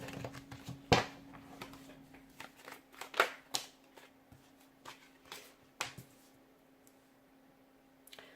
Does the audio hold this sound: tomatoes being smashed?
no